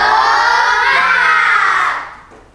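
A loud burst of children shouting and clapping together in a rhythmic cheer, close by, trailing off near the end.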